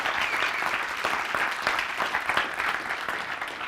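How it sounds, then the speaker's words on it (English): Sustained applause from a hackathon audience honoring participants at a wood-themed rebuilding-Ukraine finals event, dense steady clapping filling the room throughout without pause. "So a big, big, big round of applause to all of you"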